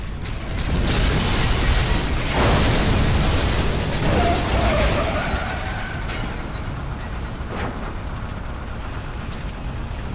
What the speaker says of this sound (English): Fire in the hole! You're safe to detonate now. Boom!